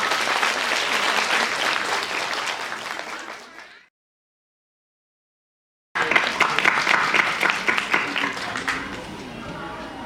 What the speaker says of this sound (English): A big applause for our young scholars